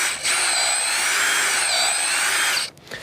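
A power drill bores a 4.5 cm deep hole into a wall for a wall plug, a loud steady whine running continuously before stopping abruptly near the end.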